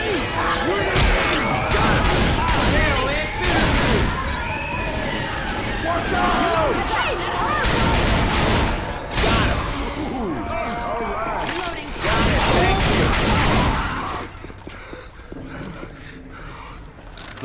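Rapid bursts of gunfire fill a Left 4 Dead 2 co-op match in the Dead Center Christmas campaign with eight survivors, loud and repeated shots and crashes, with players talking over the action.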